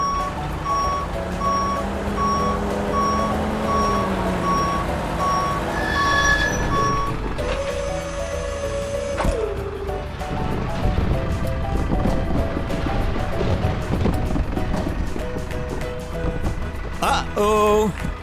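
A red dump truck carrying a load of apples reverses with steady, evenly spaced beeps, then rumbles with a low engine and clattering churn as the load tips out, ending with a few sharp knocks.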